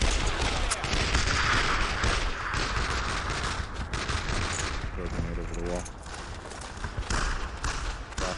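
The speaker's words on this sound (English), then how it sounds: "That machine gun doesn't seem to spot me." Machine gun bursts in the World War II shooter Brothers in Arms, a rapid crackling stream of shots with scattered heavier reports, loud and busy at first, then thinning into sporadic fire in the distance.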